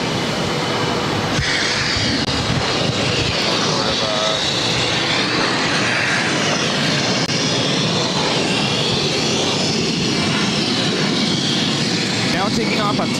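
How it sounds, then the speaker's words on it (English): An American Airlines Airbus A319 headed for Portland, Maine takes off from runway 22 right at Boston Logan, a loud, continuous engine roar filling the scene while people talk nearby. "Now taking off on 22 right, American Airlines, flight 2892, taking off to Portland, Maine on the A319."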